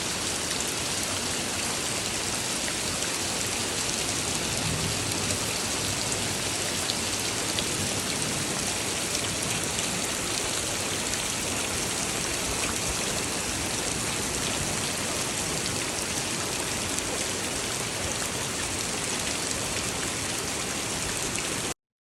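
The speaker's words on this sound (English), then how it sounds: "the two hills directing the water downward, plus the rain, it's just out of control" Heavy rain pours steadily with runoff water rushing past a patio and porch, channelled down from two hills into a French drain area; a dense, continuous close-up hiss with no pauses throughout.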